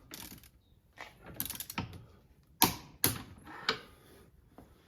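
Ratchet and wrench work tightening the strut-to-wheel-carrier bolts on a Porsche 911 (996) rear suspension, with several sharp close clicks and clunks spaced irregularly and quiet pauses between them.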